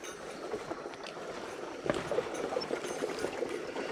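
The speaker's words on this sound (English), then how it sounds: "there's definitely some water flowing" Water trickling and flowing beneath rocks along a trail, a steady, moderately loud rushing wash with bubbling gurgles and small splashes, heard alone with no voices.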